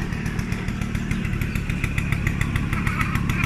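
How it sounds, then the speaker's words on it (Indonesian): A motorcycle engine runs steadily nearby, a continuous loud mechanical drone with a rapid pulsing beat and no talk. "Bawa motor."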